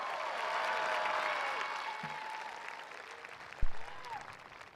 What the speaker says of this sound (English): Let's give a big cheer for our seniors.